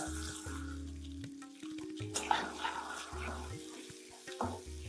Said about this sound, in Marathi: कढीपत्ता टाकलाय, लसूण, नंतर थोडंसं परतून घेऊ